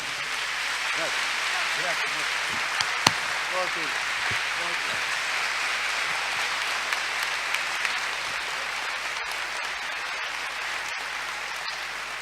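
Continuous audience applause fills a hall at a public dialogue event in Argentina, an even, dense wash of clapping lasting over twelve seconds, with a few voices faintly underneath early on.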